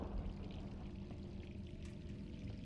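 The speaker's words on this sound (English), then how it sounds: "The water's running." Running water in Resident Evil 3 Remake, a quiet continuous pouring hiss with low rumble, steady and unbroken with no voices over it.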